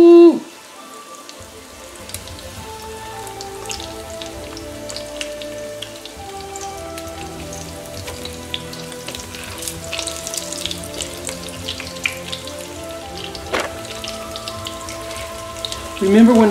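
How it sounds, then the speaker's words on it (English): Albacore tuna patties fry in a hot pan with a continuous crackling sizzle, a dense spattering hiss with small pops, close and steady. "So I'm going to go ahead and fry these right now."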